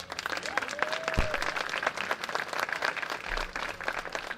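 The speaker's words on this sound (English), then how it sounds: "Another round of applause for the Young Diamonds." An audience at a high school art exhibition celebration gives a round of applause, crisp dense clapping close by, with a brief whistle-like tone early on and faint crowd murmur underneath.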